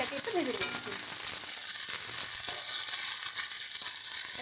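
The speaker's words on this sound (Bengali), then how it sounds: "তো সেই জন্য আমরা আগে শিমটাকে একটু ভেজে নিচ্ছি।" Flat beans fry in hot oil in a pan, giving a steady close sizzle with occasional stirring scrapes throughout.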